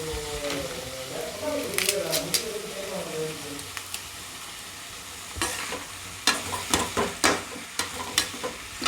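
Bay leaves frying in hot oil in a pan for mutton kulambu, a steady sizzle with stirring scrapes and light clinks that grow sharper toward the end, close and moderately loud.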